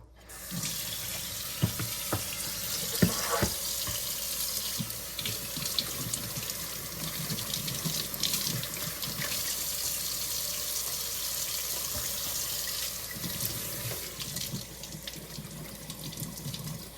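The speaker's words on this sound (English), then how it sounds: "And you can rinse it off with cool water." Water runs steadily from a tap for the whole stretch, a constant splashing rush with a few brief clunks and knocks early on.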